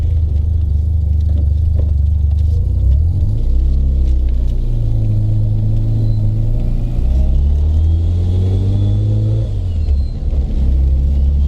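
A Mazda RX7 FC3S on freshly fitted coilovers pulls out of a driveway, its engine rumbling loud and close with rising and falling revs as it accelerates.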